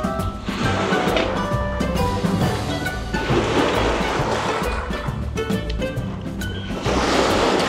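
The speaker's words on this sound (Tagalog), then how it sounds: "Yung alon, galit na galit eh" Ocean waves crash and surge in loud, repeated rolling bursts, a close, heavy roar of surf filling the whole stretch without talk.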